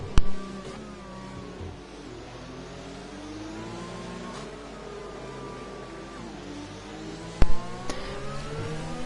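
Race cars in a racing game, on the back straight of a Vietnam circuit, accelerate with engines climbing in rising, overlapping whines. The sound is steady and moderately loud, with a couple of sharp clicks near the start and near the end.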